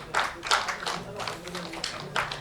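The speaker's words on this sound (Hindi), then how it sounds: "तालियां बजती रहनी चाहिए" Applause at a college convocation ceremony, a crowd clapping in steady bursts with several louder swells, while voices continue under the clapping.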